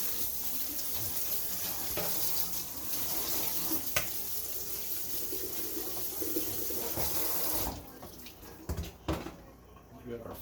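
Potatoes are rinsed of starch under running tap water, a steady broadband splash and rush that continues for several seconds, then cuts off into quieter handling noises with a few soft knocks near the end.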